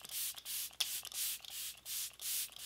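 Repeated bursts of fine mist from a makeup setting spray pumped over the face, about six close hissing sprays in an even rhythm with brief gaps, quiet and alone.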